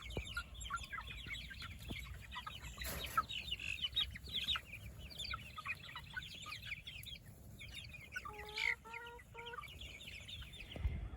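Chickens on a small farm cluck and chatter in a steady, fairly faint chorus, with scattered sharper calls and a brief rising squawk standing out near the end.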